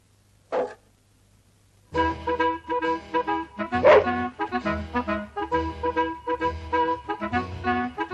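A man imitates a dog with his voice, giving a single short yelp, then after a pause a long run of rhythmic barking and yipping sounds, close and moderately loud.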